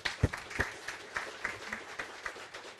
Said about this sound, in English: I think it's worth additional portion of applause.